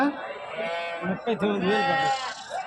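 Sheep bleat repeatedly in a wavering, nasal chorus at the Gudur sheep market, with voices talking over them throughout.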